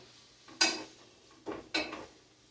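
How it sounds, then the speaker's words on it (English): Two short scraping clatters of a utensil stirring shrimp and vegetables, with tomatoes, in oil in a pan, close and fairly quiet with a faint sizzle between strokes. "now we are going to go ahead and stir this. Make sure that they get coated in the oil."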